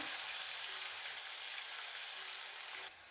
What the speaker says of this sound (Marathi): मिरची तेलात परतत असतानाच